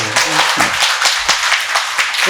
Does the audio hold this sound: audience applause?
yes